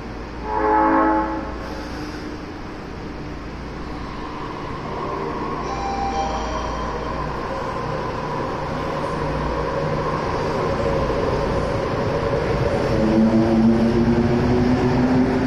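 An Osaka Metro Nagahori Tsurumi-ryokuchi Line linear-motor subway train, four short cars, rolls along with a constant loud rumble and rising, whining motor tones, and a short beeping chime near the start.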